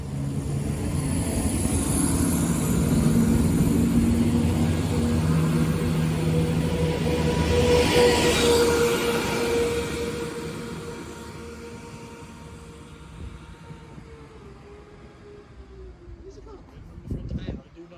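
A diesel passenger train, a Class 170 unit, rumbles loudly with a droning engine tone, then slows and fades as it draws to a halt at Worksop station, with a voice faintly present.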